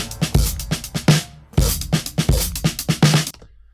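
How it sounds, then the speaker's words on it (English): A drum kit and a sampled modular synth sound play back in Ableton on Push, punchy kicks and snappy hits in a tight rhythmic loop, loud and upfront, ending abruptly in silence. "I've got a drum kit and a respace sound that I sampled off my modular and put in simpler."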